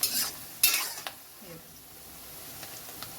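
Onions and vegetables for Hakka noodles being stirred and fried in a pan, with sharp scraping stirs near the start and a steady soft sizzle beneath, close and moderately loud.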